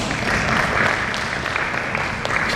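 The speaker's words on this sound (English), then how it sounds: "let's give big applause to our three presenters" Dense, steady applause from a seminar audience thanking three presenters, a continuous wash of many hands clapping at even loudness throughout.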